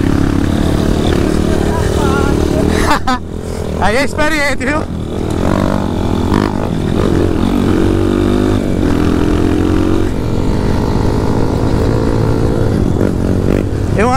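A Honda CRF 250 dirt bike engine with a choke problem runs on a trail, a loud steady drone with pitch rising and falling as it revs, while people talk over it.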